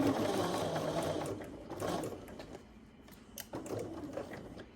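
A sewing machine stitches down a quilt block, running in bursts of fast, steady mechanical whirring with brief pauses between seams.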